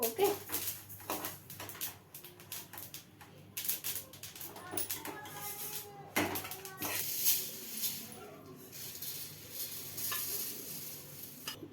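Sesame seeds roasting in a pan for Makara Sankranti ellu bella, giving a steady crackle and sizzle with scraping stirs and sharp pops scattered throughout, close and moderately loud.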